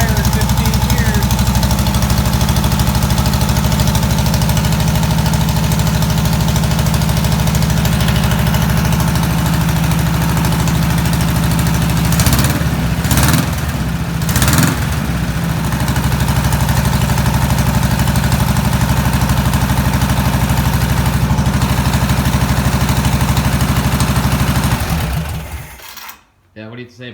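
A 1973 VW Thing engine running for the first time in fifteen years: steady, loud, rough idle with a knocking, vibrating character, briefly interrupted by a few bursts near the middle before cutting off abruptly at the end.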